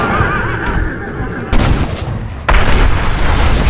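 Gunshots in the Western video game Red Dead Redemption: loud, booming shots, with a sharp blast about midway and another near the end, over heavy game noise and a horse whinny.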